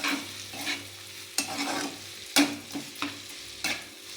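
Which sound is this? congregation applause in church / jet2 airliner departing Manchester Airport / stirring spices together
stirring spices together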